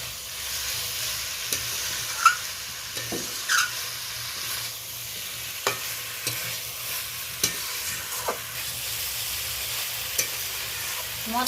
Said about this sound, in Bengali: পটল, চিংড়ি মাছ, আলু ভালোভাবে কষিয়ে নিলাম।